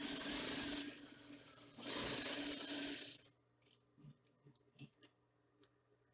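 A sewing machine runs a finishing seam on a dish towel, two loud close bursts of rapid whirring stitching separated by a short pause, then quiet with light handling clicks and taps of the fabric.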